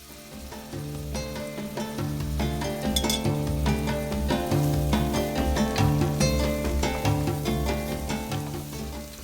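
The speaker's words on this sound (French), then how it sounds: "donc j'ajoute mes oignons" Onions and garlic fry in a pan for a rougail saucisse, a steady loud sizzle with scattered crackles and occasional stirring clinks running throughout.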